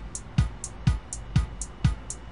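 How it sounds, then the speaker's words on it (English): Kick drum in a mix after parametric EQ cleanup, thumping in a steady beat about every half second with lighter ticks between hits, upfront and alone. "we turn on the thing, the parametric EQ tool. It sounds like this."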